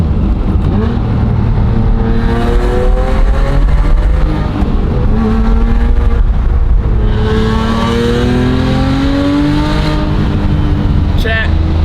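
A flat-six race car engine revs and accelerates, its loud rising drone climbing through gears as the car passes nearby, with a voice speaking over it.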